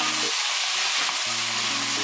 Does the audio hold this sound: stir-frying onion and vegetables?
yes